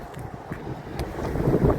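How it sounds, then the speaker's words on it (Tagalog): Strong wind after freezing rain, a low steady rumbling buffet across the microphone that builds slightly toward the end, with no talking. "Malakas na yung hangin, 35 to 40 clicks, maybe mas malakas pa."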